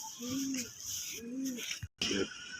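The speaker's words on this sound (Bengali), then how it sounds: "এটা হলো একটি কালো গলা গিরিবাজ কবুতর" An old black-necked giribaj pigeon coos close by in two soft, rounded, rolling calls, with a brief gap before a short third note.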